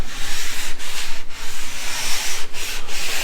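Steady close rubbing of a rag spreading wipe-on polyurethane across a wooden surface, a continuous rhythmic swishing with a few brief pauses between strokes.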